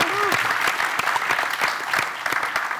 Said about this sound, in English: We can give them all a round of applause.